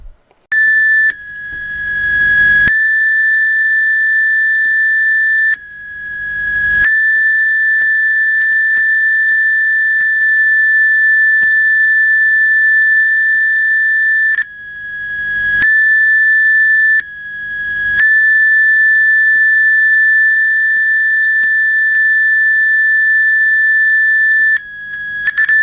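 A steady sine tone plays through loudspeakers, loud and unwavering, cutting out briefly several times and resuming at a slightly different pitch; no voices.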